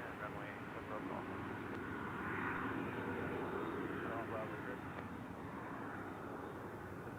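Airplane on approach to land on runway 7 right at Reno airport, a steady distant roar of aircraft engines heard throughout with a slight swell midway, partly under radio chatter.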